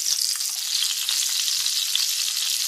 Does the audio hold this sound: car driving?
no